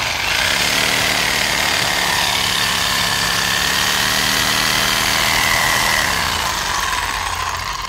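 A used Japanese saw's small engine runs loud and close, a steady buzzing drone with a rattling pulse that holds evenly throughout, then eases slightly at the end.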